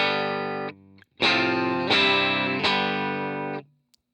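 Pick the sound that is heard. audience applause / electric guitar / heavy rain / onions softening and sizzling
electric guitar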